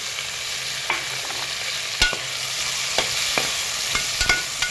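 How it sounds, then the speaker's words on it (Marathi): Mushrooms and peas being stirred and sautéed in a pan with softened tomato for mushroom pulao, a steady frying hiss broken by sharp clicks and scrapes of the spoon against the pan. "आपण आता ह्याच्यात मशरूम टाकूया आणि हे वाटाणे पण टाकून घेऊ।"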